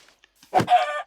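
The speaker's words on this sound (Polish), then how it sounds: "Kurczaka zabija." Video game chicken, struck and killed in a survival game, lets out a single short squawking cluck, loud and close, after near silence.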